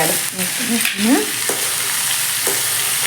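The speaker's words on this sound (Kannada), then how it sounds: "ಈಗ ಉಪ್ಪು ಖಾರ ಅರಿಶಿನ ಪುಡಿ ಮಸಾಲೆ ಕರಿಬೇವು ಎಲ್ಲ ಹಾಕಿ ನೋಡ್ರಿ ಚೆನ್ನಾಗಿ ಕೈ" Salt, chili powder, turmeric, masala and curry leaves being mixed together by hand, giving a close, steady rustling and squishing with a few soft brushing strokes and no talk.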